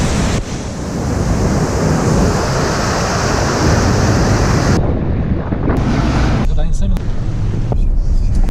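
A mountain river flows out of Karakol lake in the Altai to join the Bukhtarma, giving a loud, steady broadband rush of water mixed with wind buffeting the microphone, close and continuous throughout.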